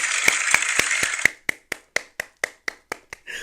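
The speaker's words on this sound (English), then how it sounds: "Lateshia, let me give you some applause." A single person claps about a dozen sharp, evenly spaced times, loud and close. The claps start over a dense background and then ring out more clearly on their own.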